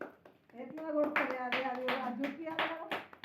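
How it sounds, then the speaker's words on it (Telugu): Hands clap at a birthday celebration, sharp taps running through several seconds beneath voices that talk or sing throughout, fairly close and moderately loud. "క్లాప్స్ కొట్టుర్రి"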